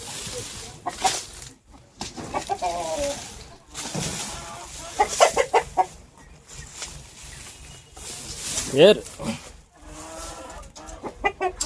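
Chickens cluck and squawk close by in uneven bursts, with rustling and scattered noise in between and voices mixed in now and then.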